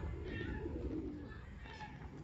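Pigeon cooing nearby at a lake in West Park, Wolverhampton, two soft low coos rising out of quiet outdoor ambience.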